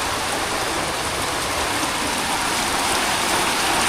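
Steady, dense rain pours without pause, a close and loud even hiss with no voices.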